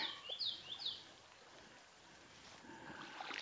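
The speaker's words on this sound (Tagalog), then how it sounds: "Narinig niyo yung yung huni ng ibon." Birds chirp near Saluysoy Falls, a river waterfall in Alfonso, Cavite: a few quick, bright, sweeping calls in the first second, then fading into a steady background hiss of rushing water with faint stirrings toward the end.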